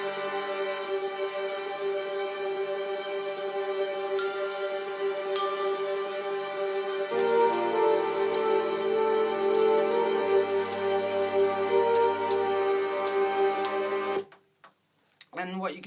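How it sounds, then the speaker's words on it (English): Two layered channels of a Bontempi organ hold a steady, sustained drone within a track, with a second pitched layer joining partway through, faint clicking accents on top, and an abrupt stop near the end. "Then also I added 2 channels of this Bontempi organ that's down here"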